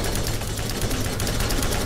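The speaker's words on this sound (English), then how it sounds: "who's shooting a giant machine gun at me?" A giant machine gun hammers away in Borderlands, a continuous, loud stream of rapid shots packed tightly together with no pause.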